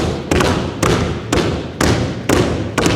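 A basketball pounded hard against the floor in a right-handed dribbling drill, six loud, evenly spaced thuds at a steady rhythm with no talking.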